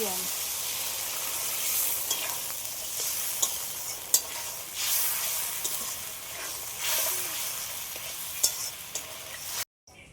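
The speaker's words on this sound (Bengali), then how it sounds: "এই মশলাটা এবার খিচুড়ির মধ্যে দিয়ে দিচ্ছি এবার একসাথে ভালো করে একটু এইভাবে খিচুড়ির সাথে ভালোভাবে মিশিয়ে নেব" Spice mix being stirred into khichuri in a pan, with a steady sizzle of frying and the scrape of a spoon moving through the rice and lentils. The spoon strokes land at irregular moments, close and fairly loud.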